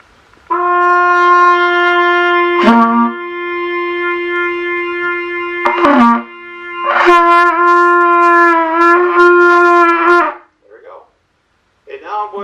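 Loud trumpet notes on an open G played close up in several long sustained tones with brief breaks between them, ending in short fading fragments.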